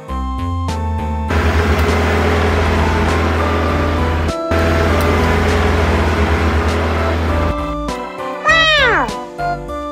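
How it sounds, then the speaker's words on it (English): A cartoon dump truck runs its engine in a loud, continuous rumble that holds for several seconds with a brief break midway, finishing with a high, swooping tone that falls off at the end. "Dump truck."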